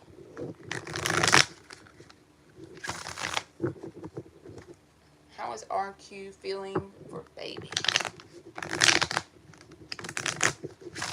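A deck of tarot cards is shuffled in several bursts of riffling and flicking, with a person speaking in between and over the cards.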